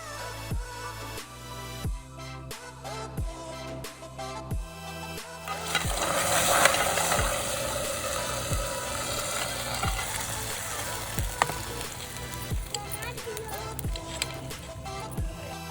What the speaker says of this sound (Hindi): और ये लग गया सरसों के साग में लहसुन का तड़का।